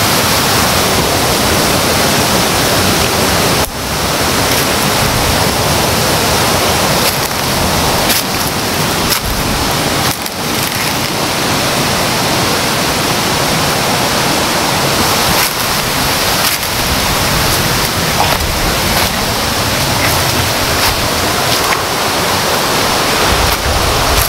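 Cold creek water flowing, a loud, close, continuous rush of churning water that stays steady and unbroken throughout, with no voices.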